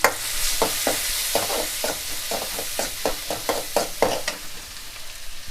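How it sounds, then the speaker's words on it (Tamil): Finely chopped onions fry in a pan for a Tamil lentil-dumpling kulambu, with a steady close sizzle and a run of quick spoon-scraping stirs in an uneven rhythm. "அடுத்து வெங்காயம் பொடியாக கட் பண்ணது சேர்த்துக்கலாம்"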